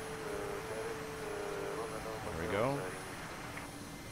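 Mi-8 helicopter in the DCS flight simulator settling into ground effect and touching down, a low steady rotor and engine drone at modest level with a brief swell near the end, under a short spoken word.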